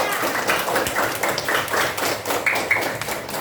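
Classroom of students clapping for a group after their presentation, loud, close, somewhat rhythmic hand claps with irregular thumps and a couple of brief voices mixed in.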